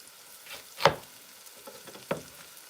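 Red and orange peppers sauté in a pan for a cheesesteak, with a soft, steady sizzle broken by two louder bursts as the peppers are tossed or stirred.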